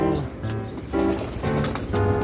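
Pigeons coo in a loft, low rolling calls overlapping close by with brief soft flutters of wings.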